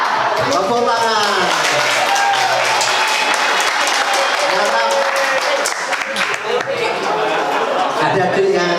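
A hall full of school students claps at a bullying and drug-prevention seminar, loud, dense applause that runs steadily throughout with cheering voices mixed in.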